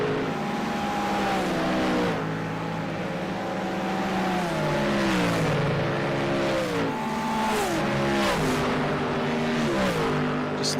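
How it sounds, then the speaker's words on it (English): GT3 race cars at Bathurst in the iRacing sim roar past in a continuous loud stream, several engines overlapping with rising and falling pitch as they accelerate and shift across the top of the mountain. "Just listening into the sights and the sounds of cars coming across the top."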